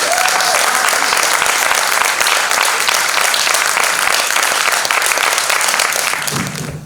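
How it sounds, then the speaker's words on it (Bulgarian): Loud, sustained audience applause in a cinema-theatre concert hall as a performer takes the stage, dense clapping filling the room evenly before easing off at the very end, with faint voices underneath. "Ръкопляскайте!"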